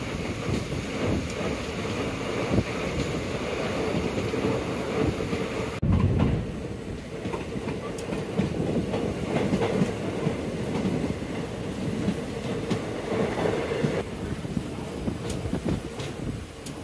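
A passenger train between Sengottai and Tirunelveli in Tamil Nadu rolls along the rails with a steady rumble and rhythmic clatter, heard from inside with wind noise and a few sharp clanks.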